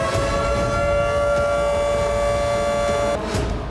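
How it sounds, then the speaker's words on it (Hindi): A civil defense air raid alert siren wails in Ukraine, a loud steady sustained tone holding for about three seconds before cutting off, with faint background noise around it. "यूक्रेन में एयर अलर्ट के सायरन गूंजने लगे।"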